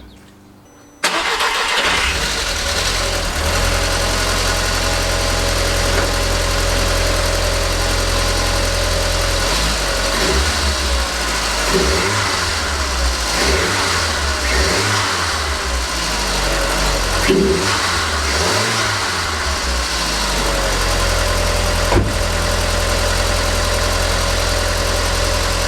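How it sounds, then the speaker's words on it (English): A Mk1 Audi TT engine cranks and fires up, then settles into a steady close idle with several throttle blips that rise and fall in pitch; no one talks over it. "We're going to fire up the car. Hopefully she'll run nice and smooth"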